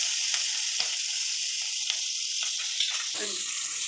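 Tomatoes hit hot oil in a kadai already holding bay leaf, black cumin and green chili, setting off a loud, bright, continuous sizzle with a few sharp spits and stirring sounds, no voices.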